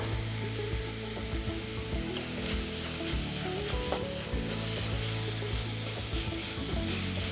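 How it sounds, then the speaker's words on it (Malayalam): Chopped tomato with a pinch of salt sizzling steadily in a hot pan for a chicken rice dish, a close, even frying hiss with occasional stirring scrapes and no talking. "ഈ ടൊമാറ്റോ ഒന്ന് ഉടയുന്ന വരെ കുക്ക് ചെയ്യാം"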